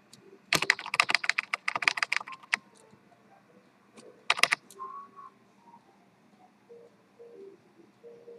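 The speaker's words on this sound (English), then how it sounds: "Keyboard is like right on the mic." Computer keyboard typing right up against the microphone: loud, rapid clusters of keystrokes for about two seconds, then a short second burst, with quiet background afterward.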